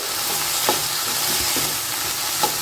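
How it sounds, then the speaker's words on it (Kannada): Okra (bendekayi) frying in a pan to dry out its sliminess, a steady loud sizzle with a few light stirring scrapes, close and without speech. "ಇದನ್ನು ಇವಾಗ ಚೆನ್ನಾಗಿ ಫ್ರೈ ಮಾಡಿಕೊಳ್ಳಿ ಲೋಳೆ ಅಂಶ ಏನಿರುತ್ತೆ ಬೆಂಡೆಕಾಯಿ ಅದಿಷ್ಟು ಪೂರ್ತಿಯಾಗಿ ಹೋಗಬೇಕು"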